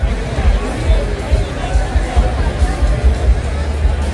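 Crowd gathered outside the Cincinnati Reds stadium before opening day: a steady outdoor hubbub of many overlapping voices and chatter, loud and close with a low rumbling undertone throughout.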